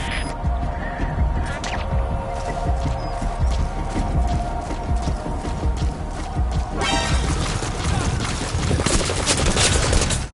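Gunfire in the Metal Gear Solid V video game comes in rapid, dense volleys over a continuous background rumble, loud throughout.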